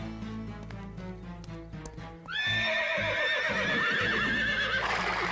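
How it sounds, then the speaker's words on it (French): Agitated horses neigh shrilly over a cartoon music bed. The loud whinnies break in halfway through and hold to the end, with hoof clatter underneath. "Il doit sûrement y avoir quelque chose qui énerve les chevaux."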